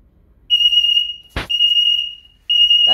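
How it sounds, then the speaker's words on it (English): A DSC alarm system sounds its fire alarm during a test, with a piercing high tone in long pulses that a sharp click briefly interrupts, loud and close. "Obviously, this is an instant dial. It's a fire alarm."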